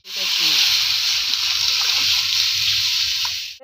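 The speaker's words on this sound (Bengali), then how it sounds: "এখন আমি জল দিয়ে দিবানে।" Water is poured steadily into a pan of egg curry with boiled potatoes, making a continuous close hiss and splash for a few seconds.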